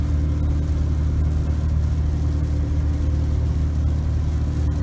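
Steady engine drone and road noise from a Ford F-150 towing a travel trailer on a wet highway, a constant close hum with low tonal bands, while other cars pass on the road; no one talks.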